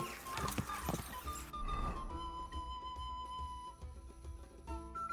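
A horse gallops in a video game, a quick rhythmic clip-clop of hooves with occasional whinnies over a steady game soundscape, continuous and fairly close.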